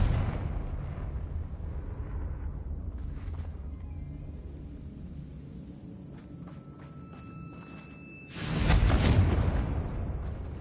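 A Confringo spell explosion in a Harry Potter video game, a deep roaring blast that swells suddenly and loudly after a stretch of quieter rumbling combat noise, with no talking over it.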